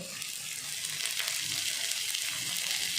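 Onion and grated coconut sautéing in a pan for chana masala, a steady close sizzle and fry with faint stirring, no talking.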